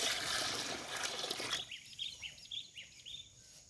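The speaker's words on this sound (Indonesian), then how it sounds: "Taruh dulu airnya guys" Water poured into a container while mixing a TSP phosphate solution, a loud rushing pour for over a second that stops abruptly, followed by faint trickles and drips, with birds chirping in the background.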